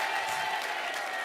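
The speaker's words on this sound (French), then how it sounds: "Je voudrais qu'on remercie une dernière fois à Hakim, qu'on l'applaudisse bien fort" The studio audience of a French midday TV game show claps loudly and continuously for just over a second, with a faint crowd murmur.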